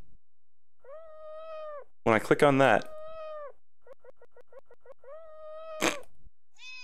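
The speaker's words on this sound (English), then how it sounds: "I sure did hear a cat." Cartoonish cat meows in a flash video game, several drawn-out mews and a quick run of short ones, with a brief burst of talking mixed in between the calls.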